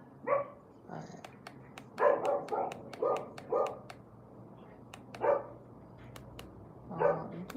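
A dog barks repeatedly outdoors in Jamaica, several sharp, moderately near barks in an irregular rhythm, over a low background hum with some voices.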